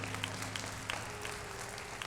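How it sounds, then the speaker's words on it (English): Audience applause for a high school symphonic band at a spring concert, a steady wash of clapping held at a moderate level throughout with a few sharper individual claps poking through. "And I want to give another round of applause for this band."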